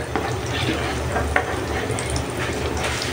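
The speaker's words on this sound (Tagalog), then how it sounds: "Ayan guys, nagme-melt na yung ating butter." Butter melts and sizzles steadily in a hot pan while squid with zucchini is being prepared, a close, constant crackling fry with a few louder pops and clinks.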